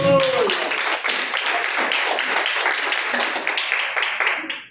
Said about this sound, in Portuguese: louvar o nome do Senhor com as palmas bem fortes para Jesus